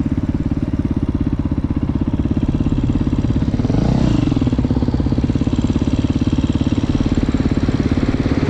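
A motorcycle passes on a rural road, swelling briefly over a close, rapidly pulsing engine that chugs steadily throughout. No voices are heard.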